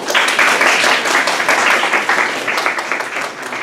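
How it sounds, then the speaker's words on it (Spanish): Sustained applause from a university audience at a talk on personal employability, dense and steady clapping filling the room for several seconds without a break. "la recibimos con un fuerte aplauso"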